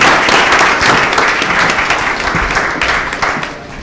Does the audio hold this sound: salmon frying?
no